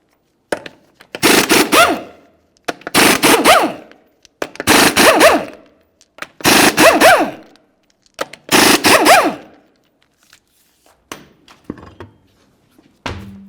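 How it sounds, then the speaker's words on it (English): An impact wrench removes the 19mm lug nuts on a 2002-2009 Chevrolet Trailblazer wheel in five loud, close bursts of rattling hammering, each about a second long, followed by a few softer clicks and clanks. "remove all 6 of your 19mm lug nuts and then the wheels"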